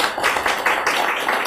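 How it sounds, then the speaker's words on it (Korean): A church congregation applauds to welcome a couple, a dense, close, continuous patter of many hands clapping at once. "우리 두 분을 환영하는 박수 한번 쳐드리겠습니다."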